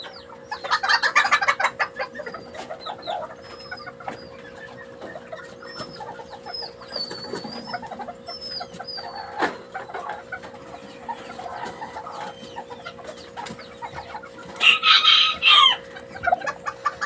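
Serama chickens on a training table give clucks and repeated crows near and far, with bursts of louder crowing and rustling over a constant low hum, with no talking.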